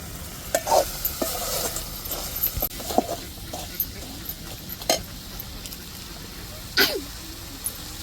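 Crabs frying in spiced masala in a pan, a soft steady sizzle broken by scraping stirs and clinks of a spatula, with a cough or throat clearing nearby.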